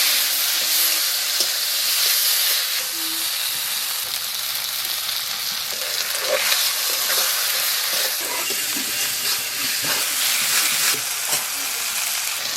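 Ginger garlic paste with tomato frying in a pan, a steady close sizzle and hiss with occasional stirring scrapes, no talking.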